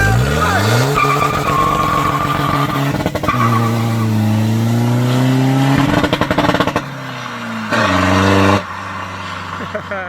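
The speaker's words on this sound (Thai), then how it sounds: "แล้วจะสับระเบิดดังไหมเดี๋ยวมาดูกันครับ" A remapped, tuned Chevrolet pickup engine revs hard in repeated bursts, pitch climbing and dropping, with sharp exhaust popping crackles between revs and a voice talking over it.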